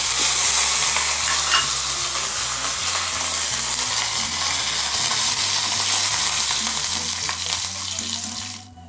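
Dried red chillies and curry leaves sizzle loudly in hot oil for a Kerala sadya sambar, a dense steady crackle that holds for several seconds before cutting off abruptly.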